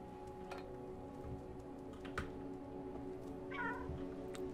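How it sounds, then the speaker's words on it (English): A cat in the video game Stray 2 gives a short meow amid a quiet, steady in-game background hum with a few soft ticks. "Meow."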